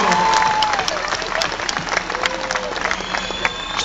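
A large stadium crowd at a concert claps and cheers for a performer, dense and sustained applause with some whistles and shouts rising over it.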